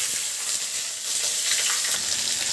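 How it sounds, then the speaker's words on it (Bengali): Onions and green chilies sizzle in hot oil in a kadai, a close, steady crackling fry with a light hiss throughout and no voices. "এখানে আমার মরিচ আর পেঁয়াজটা ভাজা হয়ে গেছে।"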